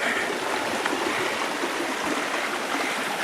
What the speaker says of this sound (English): we're just crossing a river